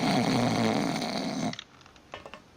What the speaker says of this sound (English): Some loud snoring.